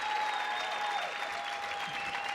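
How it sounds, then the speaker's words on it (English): Steady applause from a crowd of spectators after a long rally in a professional women's doubles pickleball gold medal match at the US Open Pickleball Championships, sustained and even throughout. "Irina and Lucy had to applaud that too"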